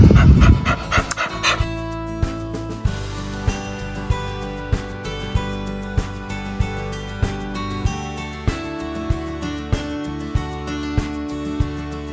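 A dog pants steadily and quickly, each short breath audible in an even rhythm, close by, after a brief jumble of louder noise at the start.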